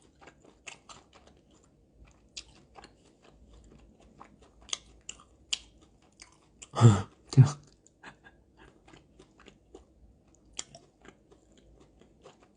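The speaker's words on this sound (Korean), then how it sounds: "내가 봐도 내가 좀 쩝쩝거리더라고" Wet, smacking chewing sounds with scattered crunchy bites, close up, including a couple of louder smacks midway; no talking.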